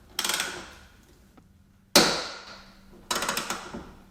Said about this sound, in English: I will now try to unbolt the hinges. That's 2 times 13mm hex.